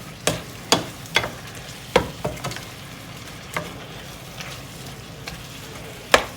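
Beef steak frying in a pan with cream and mustard, a steady low sizzle broken by sharp clicks and taps of a utensil against the pan, with no talking.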